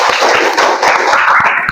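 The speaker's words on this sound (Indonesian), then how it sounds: "Kita tepuk tangan dulu" A classroom group claps hands together in a dense, steady patter of applause, loud and close, running the whole time with no speech over it.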